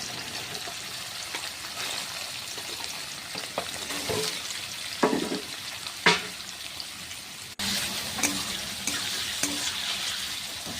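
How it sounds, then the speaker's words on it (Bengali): Small-cut paneer with turmeric fries in hot oil in a wok, a steady bright sizzle running throughout with a few louder pops and spatters near the pan, no voices. "পনির কুচি কুচি করে কেটে নিয়ে হলুদ দিয়ে ভাজা করে নিচ্ছে।"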